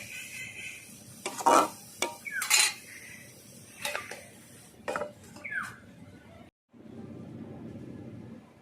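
A pan lid lifted and kohlrabi curry with prawns and coconut stirred in a pan, giving several clear metallic clinks and scrapes of a utensil against the pot over a low background rumble, with no talking.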